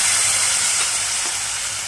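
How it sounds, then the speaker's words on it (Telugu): Water goes into a hot pan of bottle gourd upma base with tempered tomatoes, setting off a loud, steady hissing sizzle and steamy rush that holds close and continuous, with no voices over it. "ఇప్పుడు వాటర్ యాడ్ చేస్తాను"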